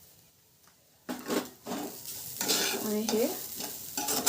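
Pigeon pea kachori filling being stirred in a hot pan, with scraping strokes over a light sizzle, close and repeated, while a person speaks briefly.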